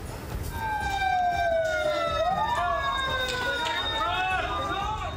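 Wailing fire engine sirens rise and fall in long sweeping tones, loud and fairly close, with a second siren layered in and steady background rumble.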